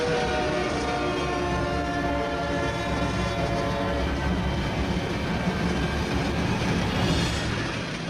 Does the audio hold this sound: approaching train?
yes